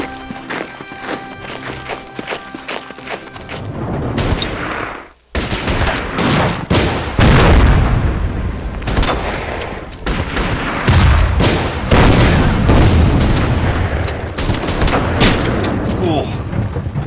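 Gunfire and explosions in the Pacific campaign of the war strategy game Order of Battle, repeated sharp shots and heavy booms crackling close and loud, with a brief dropout partway through.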